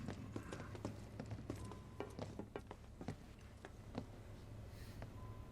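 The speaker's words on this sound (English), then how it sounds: "You can definitely hear our footsteps." Footsteps of characters walking through a facility in Final Fantasy VII Remake, a steady series of crisp taps over a low mechanical hum, moderately close and without speech.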